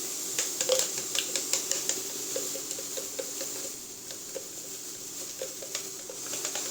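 Carbonara sauce with black pepper is stirred in a bowl, making soft, wet clicking and tapping strokes in a steady, quick rhythm. The sound is close and fairly quiet over a light background hiss.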